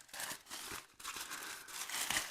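Crinkly plastic packaging being handled while unboxing an AliExpress parcel that holds a controller board for a Seagate drive, with quiet irregular rustles and crackles across a couple of seconds and no voices.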